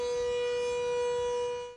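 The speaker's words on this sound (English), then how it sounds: "Sirens blared at Iceland's world-famous Blue Lagoon Resort" A loud, steady civil defense siren at Iceland's Blue Lagoon resort, sounding during a volcanic eruption, holds one wailing tone throughout, then fades off at the very end.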